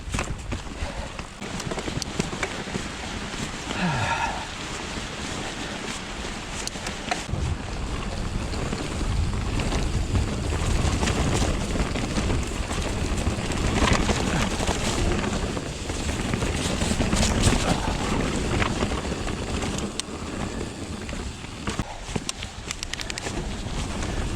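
Strong wind buffets an exposed stretch of the Twrch Trail in South Wales, a loud, steady roaring gust noise against the microphone that swells and rolls on without a break.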